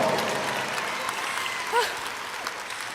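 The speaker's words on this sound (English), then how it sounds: "give that a round of applause" High school graduation crowd applauding, a dense wash of clapping and cheering at moderate distance, with a brief whoop or whistle rising above it midway.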